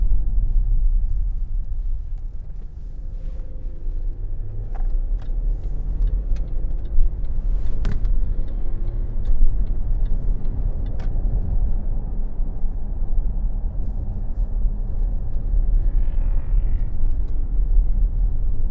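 A Range Rover Sport Black Edition merging onto the M65 motorway: steady low engine and road rumble with tyre noise, the cabin hum continuous and fairly loud, with a few faint clicks and knocks over it.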